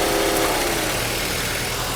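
A Mercedes W123 230E engine idling after a fuel distributor repair: a loud, steady, rough mechanical drone, close up and unbroken, with no talking.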